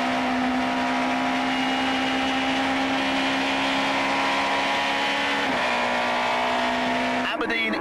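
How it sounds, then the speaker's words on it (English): An Opel and an Audi super touring car race at the Goldfields circuit in 1996, a loud sustained engine drone with a steady pitch under a commentator's voice, shifting near the end. "but the Opel is creeping away from the Audi."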